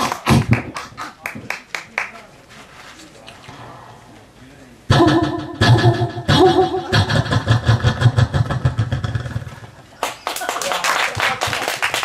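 An audience at an outdoor gakseori one-woman comedy show claps in bursts: sharp, irregular slaps early on, a long, loud stretch of dense clapping in the middle, then another lively burst at the end.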